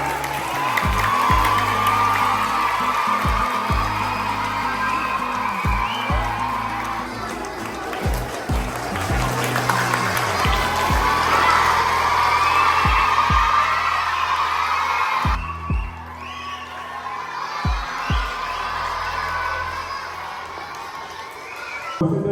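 An audience of children and adults at a school Children's Day event claps, cheers and shouts, a loud, sustained crowd din with repeated bursts of applause and whoops.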